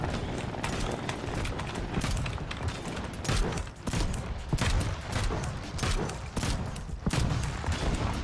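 Mortars firing nonstop in the Trailmakers building game, mounted on a spinning ground contraption: dense, rapid volleys of booming shots overlap into a continuous loud, crackling barrage for several seconds, with no talk over it.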